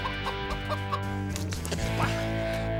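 Wild chickens cluck in a series of short, repeated calls over a steady low background hum, with a busier burst of fowl sounds near the end and no voices.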